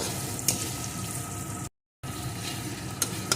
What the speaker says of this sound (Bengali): মশলাটাকে ভেজে এর ভিতরে দিয়ে দেবো